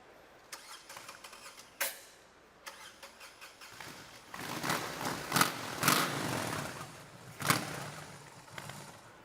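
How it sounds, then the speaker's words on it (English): A BMW 1800cc boxer motorcycle engine is cranked and started on stage at a press conference, with starter bursts, then catching and revving in several sharp blips before settling. "Edgar, may I ask you to bring this engine to life?"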